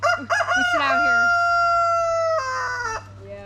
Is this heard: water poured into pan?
no